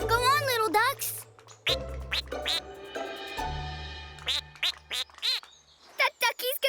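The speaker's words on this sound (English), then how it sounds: "Go on, little ducks." Cartoon ducks quack in quick, bright bursts over a bouncy musical score, with some calls overlapping and a short tonal section in the middle.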